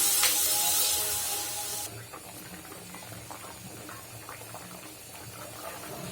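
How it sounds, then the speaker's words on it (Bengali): Egg curry gravy with flat beans in a pan: a loud hissing sizzle for about two seconds as liquid goes in, then quieter steady bubbling and simmering. "আমার কষানো হয়ে গেছে, দিয়ে দিব ঝোল।"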